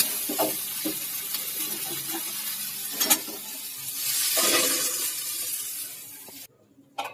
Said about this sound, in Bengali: এটাকেও ভালো করে একটু ভেজে নেবো